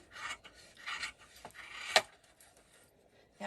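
Fabric shears rasp through thick quilted layers of fabric, batting, lining and stabilizer around placement stitches of an in-the-hoop zipper pouch, a series of close, irregular crunchy snips with a sharper cut near the middle.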